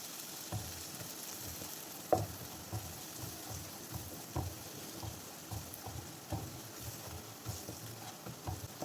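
Spices stirred in a hot pan: turmeric, chili and coriander powder sizzle steadily while a spoon scrapes and knocks at irregular intervals, one sharper clack standing out, with no voices.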